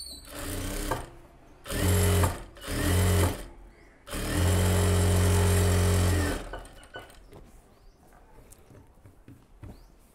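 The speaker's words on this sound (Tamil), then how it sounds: "அந்த பார்டர் பீஸை லைனிங்கில் வச்சு தையல் போட்டுக்கோங்க." An electric sewing machine stitching a border piece onto the lining of a puff-sleeve garment, close and loud, running in three bursts, two short and one longer, before stopping into quiet handling noises.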